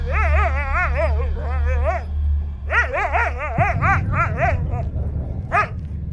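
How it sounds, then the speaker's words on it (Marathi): A dog whimpers and yelps in pain in a series of rising, wavering cries broken by short pauses, loud and close, with a low rumbling bed underneath. "काही अंतरावर पुन्हा एकदा कुत्र्याचा विव्हळण्याचा आवाज आम्हाला आला"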